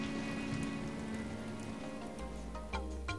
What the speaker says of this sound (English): the spring rains will come